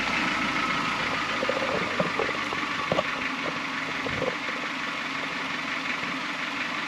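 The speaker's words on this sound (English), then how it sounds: "So I'm gonna have Bobby fire it up" A VW Lupo fitted with air ride suspension idles steadily, making a loud, continuous engine drone that stays even throughout, close to the car with no voices.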